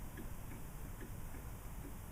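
A restored Victorian station clock ticks softly at an even pace, faint under a steady background hiss, with no voices.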